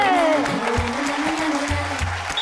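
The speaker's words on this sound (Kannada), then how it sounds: "ಬರ್ಲಿ ಜಬರ್ದಸ್ತ್ ಚಪ್ಪಾಳೆ" Studio audience clapping on a Kannada TV game show, a dense, sustained burst of applause close in, with a voice and a little music audible over it.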